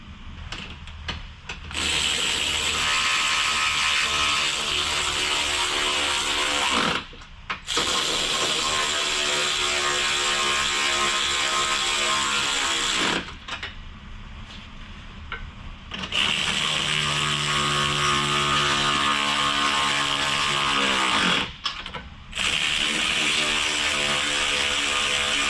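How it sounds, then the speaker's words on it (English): A ratchet tightens the bushings of a BMR sway bar on a 2007 Ford GT500 Mustang, giving rapid, close clicking in long sustained runs separated by short pauses. "I'm going to grab my ratchet"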